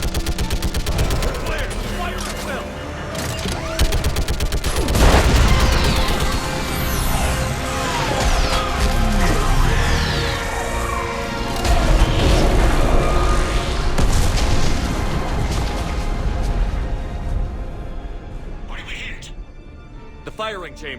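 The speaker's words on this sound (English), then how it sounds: "I need an orbital strike." Orbital strike explosions in Mass Effect 3 pound a battlefield as heavy booms and cracking blasts, layered with dense gunfire-like bursts and combat noise throughout, peaking around the middle and again toward the end, with voices under the din.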